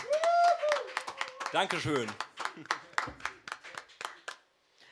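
An audience at a live TV concert stream by the band Die Rudolfs claps for a performer; a steady patter of hand claps runs beneath someone speaking and a brief sung or sustained vocal tone near the start.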